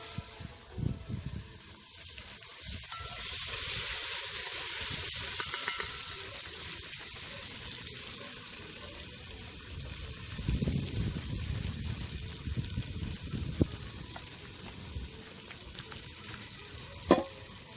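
A pot of octopus curry with coconut milk is stirred as it cooks, giving a soft, uneven sizzle and bubbling with occasional louder scrapes and a sharp knock near the end. No one speaks.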